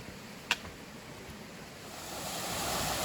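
Steady rushing water from Big Rock Falls on the Pine Mountain Trail, FDR State Park, Georgia, fills the scene, broadband and continuous, swelling louder toward the end, with one brief sharp click early on and no voices.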